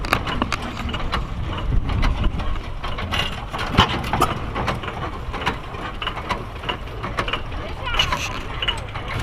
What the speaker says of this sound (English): this is a hit and miss motor.